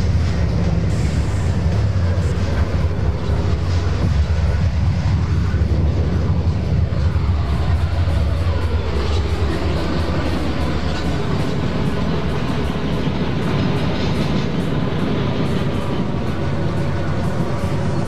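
Locomotive in the Trainz train simulator rumbles steadily along the track with constant engine drone and wheel noise, loud and unbroken the whole way through, with no voices over it.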